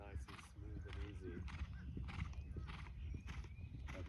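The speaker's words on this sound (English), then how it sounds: "The horse is waiting for us." A horse waits in a riding arena before a jump course, heard as soft snorts, a whinny and light hoof thuds. Faint talk and muffled background noise run under the sounds.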